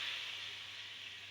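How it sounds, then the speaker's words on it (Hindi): A tarka of cumin and red chillies hits moong and masoor dal with a brief, close, fairly faint hissing sizzle, with a low steady hum beneath it and no speech. "अच्छी तरीके से मज़ेदार सा हमारा तड़का जो है ना तैयार होगा इंशाल्लाह। दाल में तड़का जो है अपना वो शामिल कर देंगे।"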